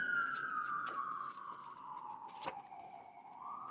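Police sirens wail outside at a distance, a long falling tone sliding steadily downward, moderately faint, with a brief sharp knock partway through.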